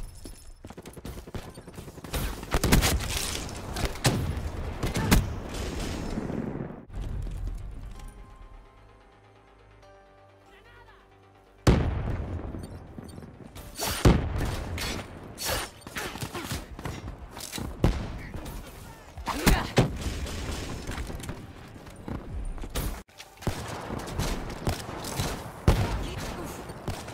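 Artillery strike in Black Ops III: dense, loud bursts of gunfire and thudding impacts fill most of the stretch, broken by a quieter gap with a droning tone before the barrage resumes and keeps pounding.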